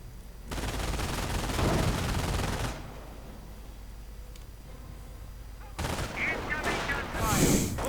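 Video game battle with sustained bursts of gunfire and sniper shots, loud and dense, easing briefly before another round of firing.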